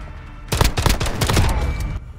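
Pistol and shotgun gunfire in Call of Duty Modern Warfare, a close, loud cluster of sharp shots fired in quick succession over about a second and a half, with no talking.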